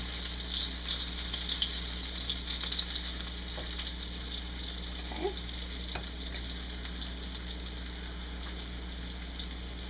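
Beef pieces for a quick stew searing in a hot pan, a steady loud sizzle and hiss that runs continuously throughout with no talking over it.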